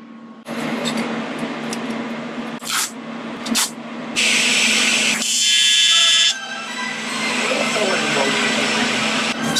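A Lincoln Tig 200 square wave TIG welder running an arc on 1/8-inch mild steel with 3/32 tungsten at about 155 amps: a steady, close electrical buzz and hiss that surges louder partway through, with brief bursts between.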